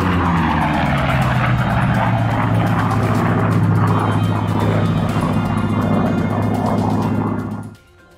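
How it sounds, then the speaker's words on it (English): An F4U Corsair propeller fighter roars loud and steady at high speed, its engine drone holding for several seconds before cutting away abruptly. "The Japanese called it Whistling Death because of a distinctive sound"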